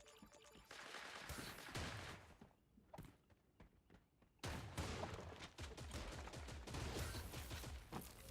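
Rapid shotgun blasts and bursts of gunfire in the video game Creative Destruction, loud volleys that break off briefly and then resume densely.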